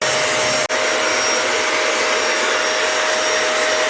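A Bissell CleanView Swivel Rewind Pet upright bagless vacuum runs with a loud, steady whirring roar and a high whine, briefly cut off near the start before continuing unbroken and close.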